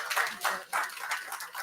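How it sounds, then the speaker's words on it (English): Scattered clapping from a small audience at a university system board of supervisors meeting, a brief patter of hands lasting under two seconds, fairly close and moderate in level. "applause for that, okay?"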